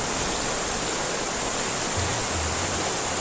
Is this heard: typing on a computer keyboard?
no